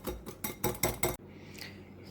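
A utensil clinks rapidly against a bowl while mixing buttermilk with a whole egg for strawberry muffins, about six quick close taps, then stops.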